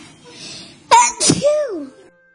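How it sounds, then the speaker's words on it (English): A girl's single hard sneeze, performed by a voice in a story. It is a sharp two-part 'ah-choo' burst with a trailing voiced tail, heard close, loud and alone. "Achoo! That was sneeze number 20."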